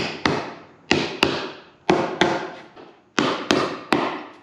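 Sharp hammer strikes drive staples in pairs, about eight blows in all, each ringing briefly before the next, close and loud with no talking, during work on a WWII half-track.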